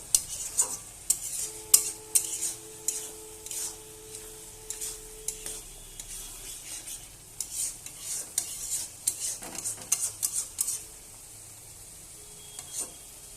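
Frying food with a topping of roasted spice powder being stirred in a pan, a run of close, irregular scraping and clinking strokes over a low sizzle, pausing briefly before the stirring resumes.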